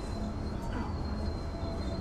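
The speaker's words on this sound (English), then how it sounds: "the train needs to make an unexpected stop" A passenger train rumbles steadily with rolling wheel noise and a faint high squeal as it slows for an unexpected stop, a continuous loud rail sound filling the two seconds with no voices over it.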